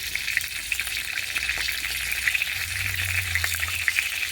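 Whole spices tempering in hot oil for dal, a continuous close sizzle with scattered crackles and a low hum from the kitchen underneath.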